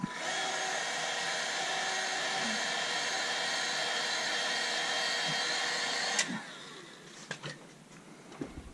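Heat gun blowing steadily on 3M backing tape during an Audi B8.5 S4 steering wheel replacement, a loud continuous whirring roar for about six seconds that cuts off abruptly, followed by a few faint clicks and handling noises.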